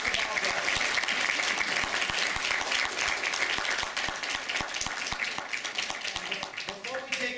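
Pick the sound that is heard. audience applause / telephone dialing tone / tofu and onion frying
audience applause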